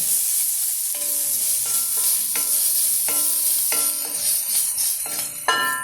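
Green chilli with crushed ginger and garlic frying in a pan, a steady bright sizzle broken by repeated stirring scrapes about once a second, close and loud with no voices.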